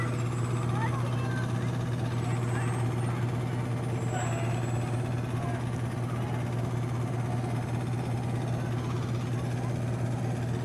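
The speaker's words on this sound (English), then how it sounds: "Here we have another truck from Medina Township." A Medina Township truck idles in a parade, its low engine drone steady and continuous beneath a constant crowd and street murmur, with people talking faintly in the background.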